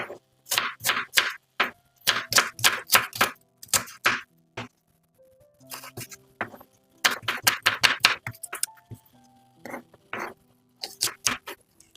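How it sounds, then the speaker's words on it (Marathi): Onions sliced thin with a knife on a board, quick bursts of crisp rhythmic chopping taps in close, dry succession, separated by short pauses. "याच प्रकारे सगळे आपल्याला कांदे हे चिरून घ्यायचे आहे"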